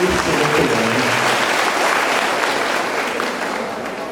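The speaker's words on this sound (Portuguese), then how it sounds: "Uma salva de palmas para esse irmão aí." A church congregation claps for a fellow member during a sermon, steady dense applause filling the room and slowly tapering toward the end, with a few faint voices mixed in.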